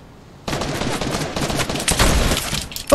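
Lever-action carbine, a new weapon in Fortnite, firing in bursts of sharp shots over steady game noise, with a louder crack near the end.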